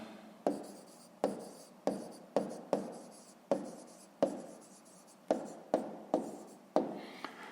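A pen writes an answer by hand on paper in quiet, close scratchy strokes. About fourteen short bursts come in a fairly even rhythm, each a quick scrape that trails off.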